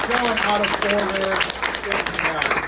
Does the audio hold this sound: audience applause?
yes